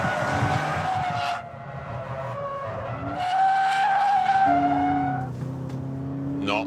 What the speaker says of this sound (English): How hard is it to slide this thing at 80 miles an hour the wrong way around the hammerhead?